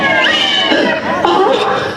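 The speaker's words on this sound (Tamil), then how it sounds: "என்ன நான் குடிக்க வேண்டிய பாலை பூனை குடிச்சுக்கிட்டு இருக்கு?" A cat meows and cries nearby, several drawn-out calls in quick succession, loud and close, with a bit of background chatter.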